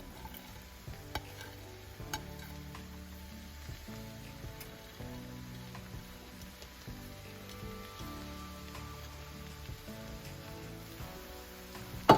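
Rice noodles stirred with green onions and cilantro in a pan give a soft, continuous scraping and light sizzle, quiet and steady with faint clinks, over low background music.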